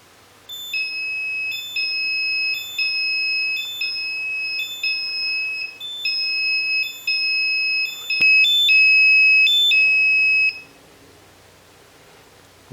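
An Arduino lightning alarm, triggered by lightning strikes, beeps in a rapid repeating pattern of high-pitched tones, steady and loud for about ten seconds before stopping abruptly.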